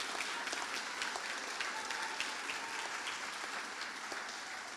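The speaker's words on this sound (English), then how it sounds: "give our graduands a massive round of applause" Crowd at a college graduation ceremony applauding the graduates, a dense, even wash of clapping from a large audience heard at a moderate distance with no pause.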